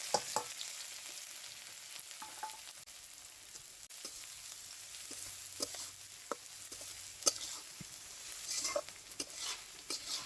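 Onions go into hot oil in a pan after frying peanuts for homemade singara filling, a soft, steady sizzle with scattered clicks and scrapes of stirring, fairly quiet and without talking.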